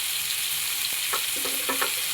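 Mackerel pieces frying in oil in a pan and being flipped to the other side, a constant close sizzle with a few clinks and scrapes of the turner near the end.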